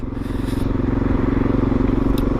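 A 2019 SWM Gran Milano 440 motorcycle engine runs steadily on a test ride, a close, continuous low throbbing drone with a rapid even pulse throughout and faint crackle near the end.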